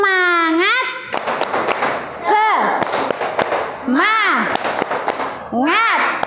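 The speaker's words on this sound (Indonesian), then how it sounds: "Semuanya tepuk semangat." Children in a classroom chant and clap a rhythmic spirit clap (tepuk semangat), sharp claps in patterned bursts between loud sung and shouted voices.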